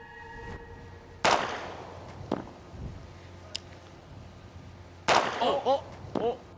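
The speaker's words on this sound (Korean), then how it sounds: "사격 개시." Pistol shots ring out at a shooting range, heard as a few sharp, fairly distant cracks spaced a few seconds apart. Quiet background noise fills the gaps between them.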